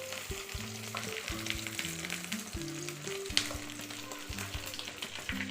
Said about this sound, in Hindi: अब हम इसे फ्राई करेंगे दोनों तरफ से अच्छी तरह से गोल्डन ब्राउन होने तक।